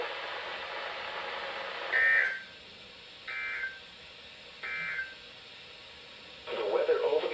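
An Emergency Alert System weather radio alarm sends three short electronic tone bursts over a broadcast hiss, followed by a harsher buzzing burst at the end.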